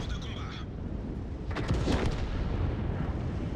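A tank gun fires a shell in the video game World of Tanks, a deep muffled boom that rolls out and sustains over a constant low engine rumble, with a voice speaking faintly beforehand.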